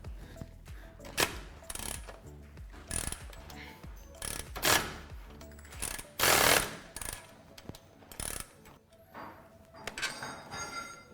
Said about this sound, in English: Then using an 18mm socket and wrench,